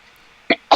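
A single person's sneeze, heard close and loud as a quick two-part burst, a sharp intake followed by a forceful breathy release, after near silence.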